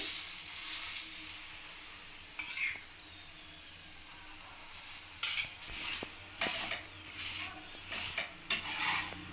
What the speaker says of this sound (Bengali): আমি এটা রিফাইন অয়েলে ভেজে নেব